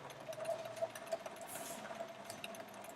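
A sewing machine stitches fabric pieces for a quilt's centre star, running steadily and fairly quietly for the whole moment with a continuous mechanical whir.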